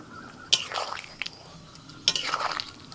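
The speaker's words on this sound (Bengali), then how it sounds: "এবার আমি দিয়ে দিচ্ছি পোস্ত বাটা।" Poppy seed paste goes into a pan of boiled potatoes and pointed gourd, two wet, squishy plops with light scraping and stirring, close and fairly quiet.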